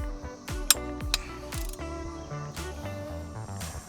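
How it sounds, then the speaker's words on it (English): A wrench turns a crash bar bolt on a Royal Enfield Continental GT650, giving a close series of ratcheting metallic clicks and knocks of uneven rhythm. "So we're going to tighten this till we hear it click."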